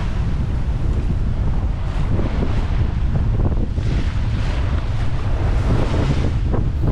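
Strong wind roars steadily over the microphone while large waves break against a small boat far out at sea, making a constant, loud, rushing wash with no voices.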